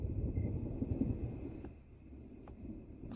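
Low thunder rumbles steadily as a storm approaches outdoors, with a regular high insect chirp pulsing over the deep rumble throughout.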